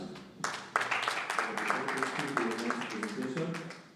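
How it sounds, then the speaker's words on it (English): An audience clapping for a participant at a Franco-Anglo exchange program, a few seconds of uneven clapping with voices murmuring underneath. "Okay, let's clap Mr. Sach."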